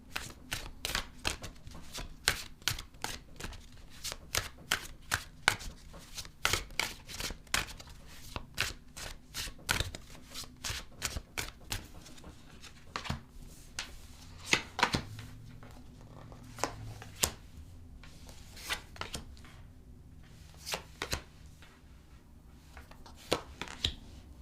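Tarot cards riffled and shuffled by hand for a reading, giving a long run of crisp, rapid slaps and flutters in uneven bursts, close and fairly quiet, with no talking.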